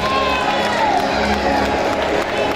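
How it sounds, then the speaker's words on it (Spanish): Crowd applause and cheering at a Halloween event in Guardamar, a dense, steady wash of clapping and voices filling the whole stretch at full level. "Ahí está, un fuerte aplauso para ellos."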